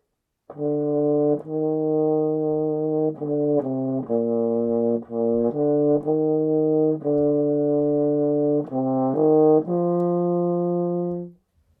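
A mellow euphonium plays a smooth, slurred line of sustained notes, moving stepwise without breaks, solo and close.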